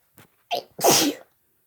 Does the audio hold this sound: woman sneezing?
yes